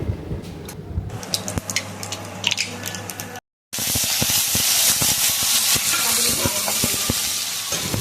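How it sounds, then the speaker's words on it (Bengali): Nigella seeds and poppy seed paste frying in hot oil in a wok, with soft kitchen clatter at first, a brief silence, then a loud, steady, close hiss and sizzle that keeps on to the end. "কড়াইতে তেল দিয়ে দিচ্ছি আর দিয়ে দেবো সামান্য একটু কালো জিরে ফোড়ন আর পোস্ত"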